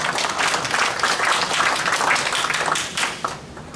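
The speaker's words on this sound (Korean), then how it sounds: "칭찬 박수로 환영해 주시기 바랍니다" Audience applause welcoming a guest at a senior citizens' association healthcare policy forum, dense and steady throughout, loud and close with a full room of hands clapping together.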